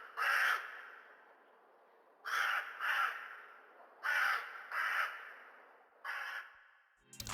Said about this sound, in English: I just searched crow sound effects and I got this